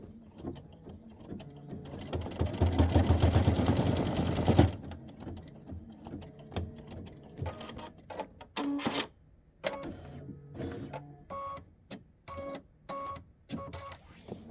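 A home embroidery machine stitches out a snowman quilt block, a dense mechanical whirring burst near the start followed by intermittent clicks, clacks and short motor runs at moderate volume.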